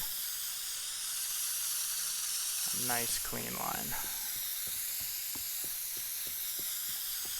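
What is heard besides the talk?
spray can spraying in the video game Teardown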